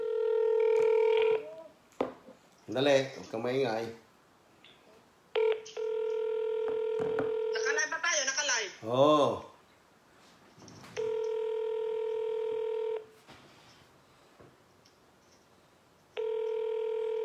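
A telephone call goes out: repeated steady ringback tones sound in long bursts, broken by short dialing blips, while people talk and chatter close by between the rings.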